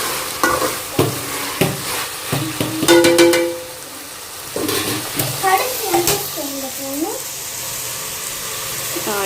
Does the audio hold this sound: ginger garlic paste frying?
yes